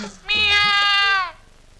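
A single loud, close cat meow, drawn out for about a second and falling in pitch at the end, with no other sound around it.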